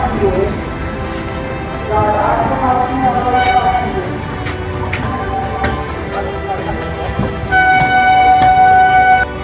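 The Sri Jagannath Express (18410), running from Puri to Kolkata, rumbles and clatters continuously, heard close from on board, with a sustained horn toot near the end and faint background voices.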